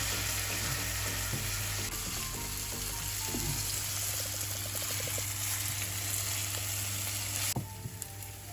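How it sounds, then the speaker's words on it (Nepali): Grated onion fries in a pan as it is stirred for a mustard fish curry. A loud, continuous sizzle runs throughout, with soft scraping from the stirring, and the sound shifts abruptly shortly before the end. "अब यसलाई एकैछिन राम्रोसँगले चलाएर एकछिन भुट्नुपर्छ"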